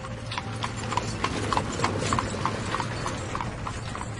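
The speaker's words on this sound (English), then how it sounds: "the king put Elissa on his horse and galloped away to his lovely castle" A horse gallops with steady, rhythmic clip-clopping hooves at moderate volume, alone, over a low constant hum.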